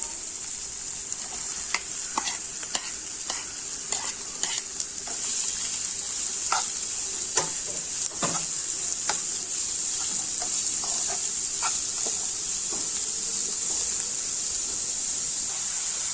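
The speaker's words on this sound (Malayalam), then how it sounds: "ഇനി നമുക്കതിലേക്ക് സവാള ചെറുതാക്കി അരിഞ്ഞിട്ട് കൊടുക്കാം" Finely chopped onions stir-fry in a hot pan for a squid masala, giving a steady close sizzle punctuated by frequent sharp clicks and scrapes of stirring.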